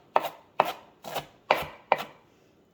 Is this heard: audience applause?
no